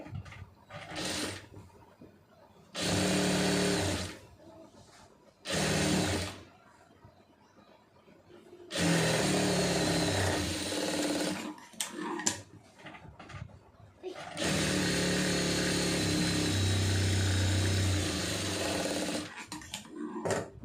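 A sewing machine stitches fabric for a pencil-fit garment, running in loud, close whirring bursts of a few seconds each, separated by quiet pauses and longer runs.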